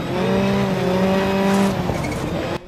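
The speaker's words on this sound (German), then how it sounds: "Die Motoren klingen ihren Vorbildern recht ähnlich und zumindest die Rallye- und Rallycross-Boliden lassen den Turbo schön pfeifen." Rally car engines from the racing video game Dirt 5, a loud revving roar with rising harmonic tones and a turbo whistle, heard alone without talk.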